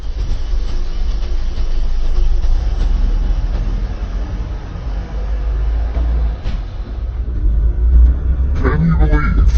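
A restored supercar rumbles steadily as it is put in gear and pulls away, a loud continuous low engine and road drone throughout, with someone talking over it.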